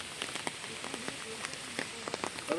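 Rain falls on a river during net fishing, a steady patter of drops pattering on the water surface with scattered sharper splashes, fairly close and continuous.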